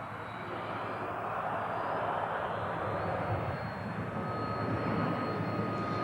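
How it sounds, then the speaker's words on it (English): A British Aerospace 146 four-engine airliner roars past at a 1985 Battle of Britain anniversary flypast at RAF Finningley, a steady broad jet rumble and whine held at moderate distance for several seconds. "the British Aerospace 146, and an excellent opportunity for it to demonstrate another of its important selling points, its short landing capability"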